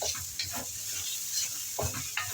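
Chicken pieces stir-frying in a wok with celery, a steady hiss of sizzling oil broken by several scraping stir strokes, close and continuous.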